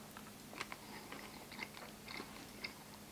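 Someone bites and chews a slice of smoked corned beef brisket, soft close crunches and moist chewing clicks scattered over a quiet few seconds.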